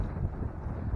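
Strong wind blows at a campsite, buffeting the microphone with a low, continuous rumble and no talking.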